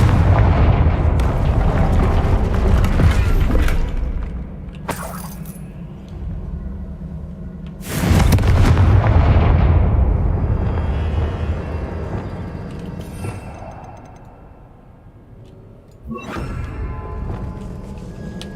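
Confringo fire blast spell in the video game Hogwarts Legacy, a loud deep explosive boom with rumbling decay, followed by further crashing bursts and fading rumbles.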